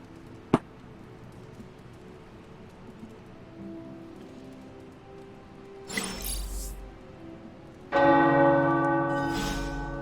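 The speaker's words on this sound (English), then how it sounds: "The tower bells are ringing." Tower bells ring in Marvel's Midnight Suns, the game's bell chimes entering loud and rich at the end, layered over a quiet ambient bed after a single sharp knock near the start.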